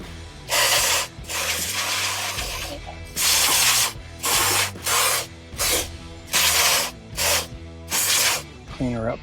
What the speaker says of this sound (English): I'm going to spray her down with some contact cleaner just because there's a little bit of oil on it.